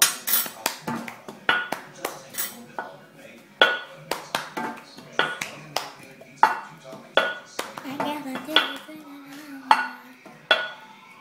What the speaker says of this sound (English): And do the cup sound.